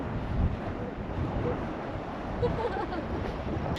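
Gusty wind buffets the microphone in low rumbling bursts, with an open outdoor roar behind it, on the Lake Superior shore at Neys Provincial Park on a 50-degree day.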